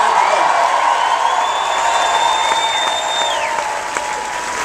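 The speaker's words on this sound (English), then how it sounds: "Give him a big round of applause for that great introduction" Large crowd at a presidential campaign speech in Waterloo, Iowa, applauding the Iowa Firefighter of the Year, a dense, steady roar of clapping and cheering with whistles rising through it.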